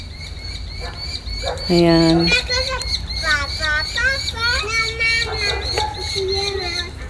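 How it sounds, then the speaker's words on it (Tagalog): A noisy bird calls in a backyard garden in Canada, shrill harmonic chirps and warbling notes repeating close by, with a person speaking briefly over it and steady outdoor background hum. "May maingay na ano, ibon."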